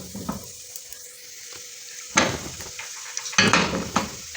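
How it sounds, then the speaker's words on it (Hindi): Black peppercorns and cumin seeds sizzle in hot desi ghee for a tempering, giving a soft crackling fry broken by a few sharp bursts of spattering and clinks of a metal pan, with no voices. "ये मैंने देसी घी के अंदर 4-5 गोल मिर्च डाली हैं और ये मैंने ज़ीरा डाला है।"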